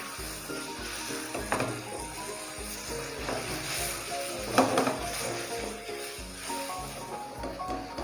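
Sago pearls fry in ghee in a pan, giving a steady soft sizzle and hiss with occasional clinks of stirring, close and moderately quiet, no voice over it.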